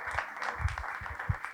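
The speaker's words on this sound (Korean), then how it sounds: "큰 박수 부탁드립니다" A seminar audience applauds the panel coming onstage, with a dense, continuous patter of many hands clapping in a hall and no voices.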